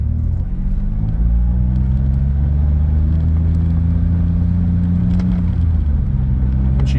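A Hyundai automatic car pulling away and shifting up through the gears, its steady engine rumble rising and easing with each change, close and continuous with no talk.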